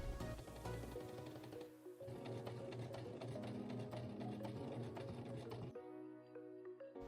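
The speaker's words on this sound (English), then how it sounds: "then you can just sew it down and then sew that waistband down as well" A sewing machine stitching down a jeans waistband, rapid close mechanical chattering in bursts with short pauses between runs, no talking.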